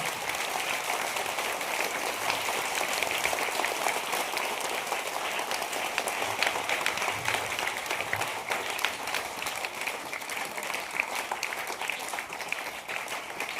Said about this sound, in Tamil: எல்லாரும் நம்ம சேர்ந்து ஒரு தடவை நல்ல கைத்தட்டிடுமா நல்ல ஜோரா